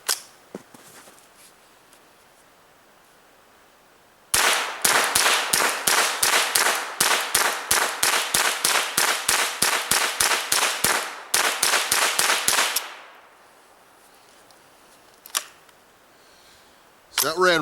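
Ruger 10/22 rifle firing Remington Golden Saber rounds from a 25-round BX-25 magazine: after a quiet pause, a rapid string of sharp, loud shots in two bursts with a brief gap, then ringing quiet and a lone click.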